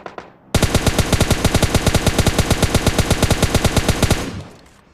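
Rapid automatic gunfire in PUBG Mobile Lite, a loud, evenly spaced burst of about thirty shots rattling off in a steady rhythm with no talk, then a short fading tail.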